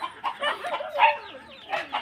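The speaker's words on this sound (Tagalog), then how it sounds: "Halaga po nilang mga sisiw, mga manok na native." Native chickens and chicks clucking and chirping in short bursts, with a faint voice in the background.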